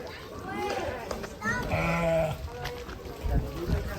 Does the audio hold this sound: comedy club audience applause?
no